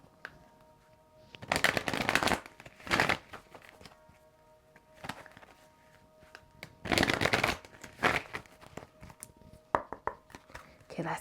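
A deck of tarot cards is shuffled by hand in several quick riffling bursts, each lasting about a second, separated by quieter pauses with soft handling noises and some quiet talk.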